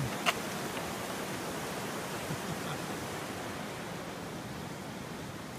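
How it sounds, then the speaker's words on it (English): Early-season waterfalls spill beside a creek-bed trail along the Little North Santiam in spring, a steady broad rushing wash of falling water, fairly close and continuous, with no talk. "Got some early season waterfalls coming off the trail here."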